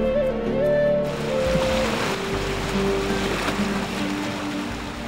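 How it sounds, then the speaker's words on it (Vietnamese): A waterfall in Vietnam's Central Highlands pours with a continuous broad rushing roar, steady and loud throughout, with sustained musical tones layered over the water. "Tiếng thác đổ rào rạt trầm hùng từ nhiều độ cao"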